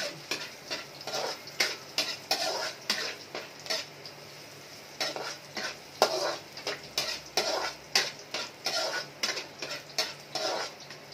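Aromatics and other ingredients for savory pancit canton being sautéed in a pan, with repeated scraping, stirring strokes and clattering utensil hits over a low sizzle, close and fairly loud in an irregular rhythm.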